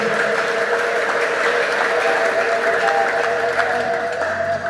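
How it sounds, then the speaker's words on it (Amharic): A church congregation applauds in a sustained wash of clapping throughout, with a droning tone beneath it and no clear speech. "እኔ በኢየሱስ ከብር ያለው የሚል ሰው እስኪ ለጌታ አጨብጭቡለት"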